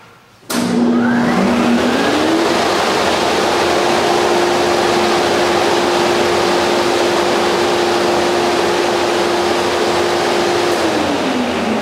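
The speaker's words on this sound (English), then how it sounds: "There's that 24 horsepower blower." A 24 horsepower blower on a 2004 Coral FM4 25HP 9250CFM indoor-outdoor dust collector spins up abruptly, then holds a loud, steady roaring whoosh with a constant hum for about eleven seconds before the pitch begins to drop.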